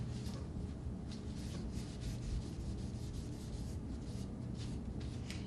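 A rag or cloth rubs dark wood stain into a small handcrafted piece, making soft, continuous scratchy strokes that are quiet and close, with no talk over them.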